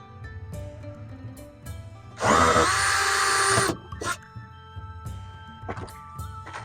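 A power drill drives the last screw during small repairs inside a Winnebago Solis 59P camper van: one loud whirring burst of about a second and a half, followed by a few soft knocks and clunks.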